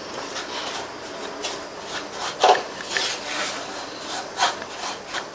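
A utensil rasps and scrapes steadily across a pan of semolina dry-roasting over a low-medium flame, a dry, gritty rubbing repeated in uneven strokes.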